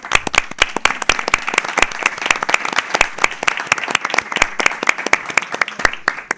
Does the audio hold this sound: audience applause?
yes